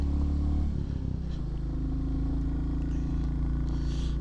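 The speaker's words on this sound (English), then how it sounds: "So you can maybe hear the strain in the bike coming up this hill." Royal Enfield Classic 350 single-cylinder motorcycle engine labouring up a hill, a steady low thumping drone that shifts in pitch early on, then holds under load with wind noise, no talk.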